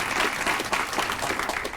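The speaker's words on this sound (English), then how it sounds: "Round of applause for your families." Graduation audience at Indian Ridge School claps steadily for the families, a dense, even wash of applause sustained throughout without a break.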